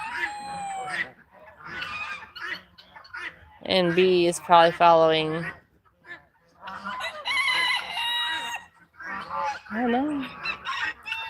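Yard chickens, hens and young birds, cluck and squawk nearby at night after rain, in bursts with one loud drawn-out call in the middle, while a person talks quietly between the calls.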